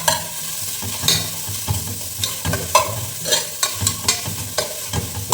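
Onions frying in a pot for mutton dum biryani, a steady close sizzle broken by repeated scraping stirs of a spoon.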